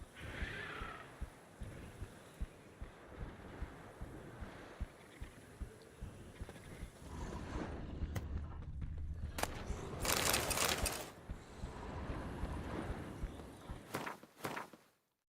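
Horse hooves clip-clop at a steady walking pace in The Witcher 3, set against ambient game sound, with some brief louder bursts partway through.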